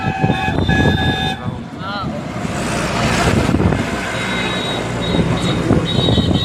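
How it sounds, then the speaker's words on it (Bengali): A train horn sounds at Digha railway station, with a steady toot at the start and shorter blasts later. Rumbling rail and platform noise runs underneath, and a voice is heard. "এইটা হচ্ছে দীঘা স্টেশন"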